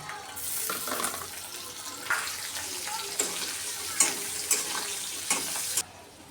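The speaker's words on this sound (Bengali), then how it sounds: "এখন আমি কাঁচামরিচ আর পেঁয়াজ দিয়ে দিলাম" Green chillies and onion frying with dried fish in a pan, a loud continuous hiss and sizzle up close with a few spatula knocks and stirs near the end, then it suddenly cuts off.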